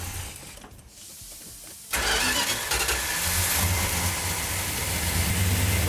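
Old car engine cranking and catching after a quiet pause, then running loud and steady at idle close by, with the choke held.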